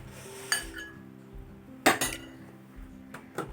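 Spoon stirring fennel seeds and shahjeera in a metal pan for potato biryani: a few sharp clinks and scrapes against the metal, close and fairly quiet, with soft shuffling between the knocks.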